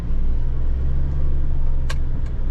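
A Mitsubishi Triton Single Cab pickup grinds uphill off-road in second gear, its engine a steady, close, loud low rumble with a couple of brief higher scrapes or squeaks near the end.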